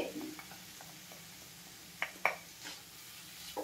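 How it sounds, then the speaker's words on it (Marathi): Bharangi wild vegetable with salt and grated coconut is stirred in a pan, giving soft scraping and a light sizzle. Several sharper clinks of the spoon against the pan stand out midway, and no speech is heard. "हे सर्व मी व्यवस्थित मिक्स करून घेते"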